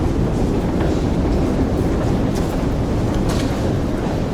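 Metro train in Ukraine running through a tunnel; a loud, steady rumble and roar from inside the car with faint rail clatter and occasional squeals, and no talking.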